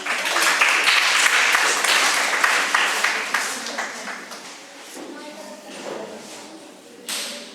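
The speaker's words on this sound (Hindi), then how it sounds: "आप ताली बजाते रहना।" An audience claps at a school Hindi elocution contest in Lucknow, a dense burst of applause that slowly thins and fades, with a voice talking over the end.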